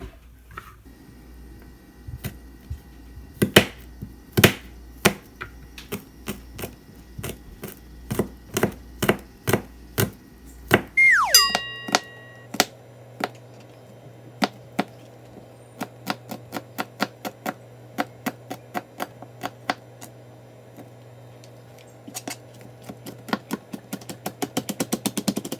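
A kitchen knife chops garlic cloves on a cutting board in rapid, crisp knocks, close and steady with no talk.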